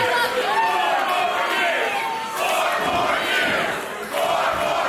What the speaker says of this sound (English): The crowd wants 4 more years.